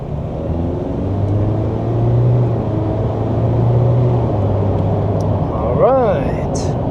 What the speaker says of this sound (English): Maybe another acceleration before the speed limit.